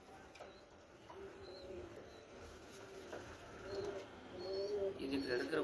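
Karna pigeons cooing in a loft at Kangeyam, soft repeated coos and a few chirps over steady background noise, with someone talking nearby.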